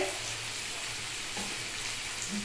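Turmeric tipped into a generous amount of hot oil while cooking okra and egg curry, giving a steady, close sizzle and frying hiss with light stirring and no talk.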